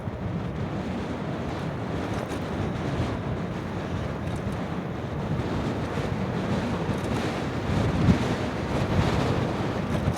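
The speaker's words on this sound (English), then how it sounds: "It's pretty windy out here." Strong wind roars continuously across the microphone during a RadRover electric bike ride on a path, a dense, steady rushing noise with no voices.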